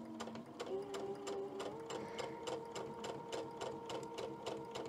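A sewing machine stitches a flag quilt block with a rapid, even mechanical chatter, running continuously at close range throughout.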